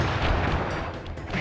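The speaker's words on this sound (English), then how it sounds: "I will send you to your doom with the beauty of my new firework technique" A firework attack explodes in the Sly Cooper video game: a loud, dense burst of crackling booms and rushing noise that lasts about a second and a half, with no talk over it.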